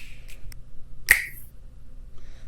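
A tiny finger-snap percussion hit in a minimal electronic beat: one sharp, bright snap sounds near the middle, with faint softer ticks before it and near-quiet around it.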